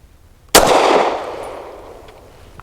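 A single sharp pistol shot from an EAA Girsan High Power Lightweight, close and loud, with a quick crack and a ringing tail that fades over about two seconds.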